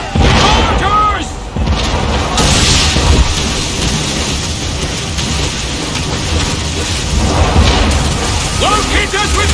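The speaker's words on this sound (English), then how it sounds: "Mortars!" Mortar fire in Assassin's Creed III bursts as loud, heavy booms over a constant battlefield roar, with a sharp blast near the start and more impacts later, while voices shout in the mix.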